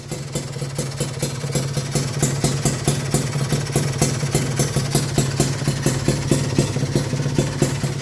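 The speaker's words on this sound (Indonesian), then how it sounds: "Nah ini untuk suara idle-nya ya." A modified old Kawasaki Ninja RR two-stroke motorcycle idles nearby, a steady rhythmic popping putter with rapid regular beats and a constant low hum underneath.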